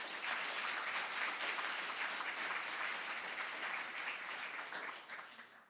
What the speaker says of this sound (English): I want to give a great round of applause to everybody who's been involved to make this happen